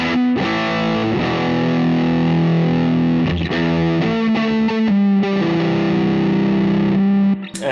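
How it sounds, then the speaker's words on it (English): Electric guitar played through a JHS Astro Mess fuzz pedal, thick distorted chords ringing out loud and sustained, changing every second or so, with no voices. "This is my JHS Astro Mess fuzz."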